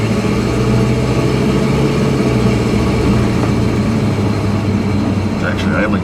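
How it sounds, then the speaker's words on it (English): A car engine idling smoothly with good gas in the tank, a steady, loud, low hum and drone with no change in pace, heard from close by inside the vehicle. "It's actually idling pretty smooth right now too."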